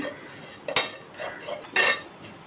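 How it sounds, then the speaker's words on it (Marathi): Poppy seeds are lightly dry-roasted in a pan while a utensil stirs them, giving a few short metallic scrapes and clinks close by over quiet background. "इथे मी खसखस घालत आहे खसखस हलकी भाजून घ्यायची"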